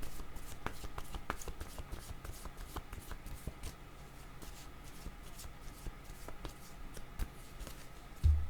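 Tarot cards shuffled and drawn by hand, a steady run of soft riffling flicks and light card snaps close by, continuing without talk for several seconds.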